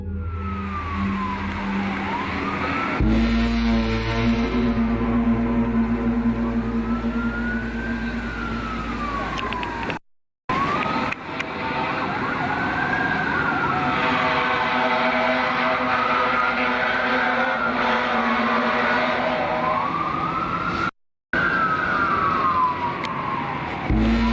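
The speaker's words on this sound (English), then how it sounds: "Police sirens and cop cars could be heard riding all around as panic breaks out in the city." Several police sirens wail and sweep up and down over a steady rumble of traffic and engines, loud and continuous, with a few short dropouts.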